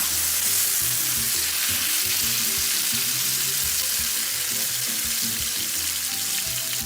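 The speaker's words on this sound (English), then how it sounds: "hear that sizzle?" Loud, steady sizzling and crackling of chicken frying in a smoking-hot pan, a dense hiss running throughout with no talking.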